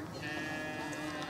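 Goats bleat at a park: a single drawn-out, wavering bleat sounds faintly at a distance over a steady outdoor background.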